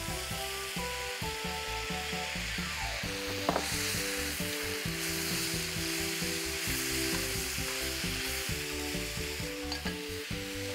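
Mushrooms and onions stir-fry in a pan, a steady close sizzle with scraping and stirring strokes running throughout, loud and continuous with no talking.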